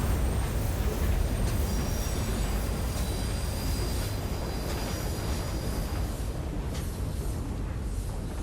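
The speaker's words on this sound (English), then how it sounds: "That ghost train is pretty cool." A ghost train in the adventure game Uru: Ages Beyond Myst rumbles steadily along with a deep, continuous roar and faint high metallic squeals above it, loud and unbroken throughout.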